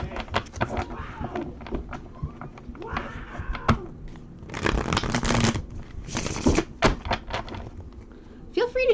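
A tarot card deck is shuffled near the mic in repeated riffling bursts and soft slaps, with brief bumps and handling noises between them.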